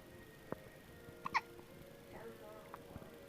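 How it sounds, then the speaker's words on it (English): A newborn baby boy, two days old, gives a couple of small, soft hiccups in a quiet room, with faint adult speech and low household noise around them. "I'll make a video of you hiccuping"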